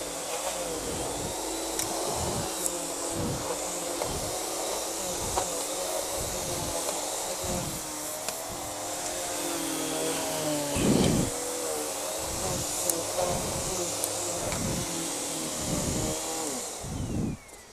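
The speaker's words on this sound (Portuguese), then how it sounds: "Esse é o aspirador que a maioria das mulheres que vem pra cá pra limpar a casa usam." A household vacuum cleaner works over a car floor mat, a steady whining motor hiss broken by a regular rhythmic thumping as the nozzle is pushed back and forth, fairly loud and continuous with no talking.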